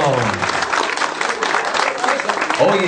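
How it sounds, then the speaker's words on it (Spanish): A crowd at the inauguration of a drinking-water works in San Ignacio, Huando, Huaral, claps steadily and fairly loudly for about three seconds, with voices mixed in at the start and end. "¡Venga, las palmas!"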